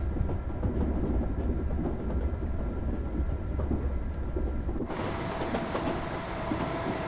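A Class 158 train passes in a train simulator game with a continuous loud rumble and rattle. The sound jumps to a brighter, harsher roar partway through as the train goes by close.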